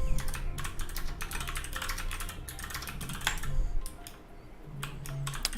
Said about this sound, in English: don't you just love the sound of people typing fast?